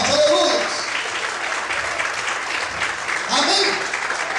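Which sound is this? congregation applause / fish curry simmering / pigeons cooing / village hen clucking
congregation applause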